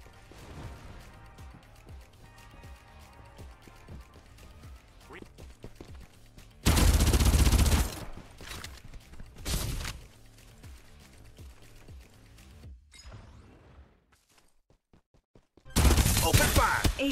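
Gunfire in the Farlight shooter video game during a duos match, with bursts of rapid automatic fire, including two long, loud, dense volleys among lighter shots and game effects.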